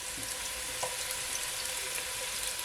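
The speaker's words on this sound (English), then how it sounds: "Just gonna allow it to saute for at least 15 seconds." Garlic cloves sauteing in a hot pan for a Jamaican corned beef and cabbage dish, giving a steady, close sizzle and crackle with a faint stir midway.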